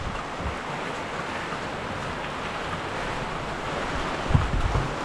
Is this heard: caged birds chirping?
no